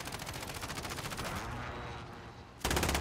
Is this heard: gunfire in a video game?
yes